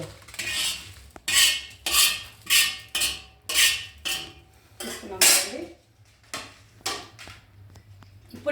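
Roasted red chillies are scraped off a hot pan onto a plate, giving a run of about ten sharp metallic scrapes and clinks in a steady rhythm, close and fairly loud.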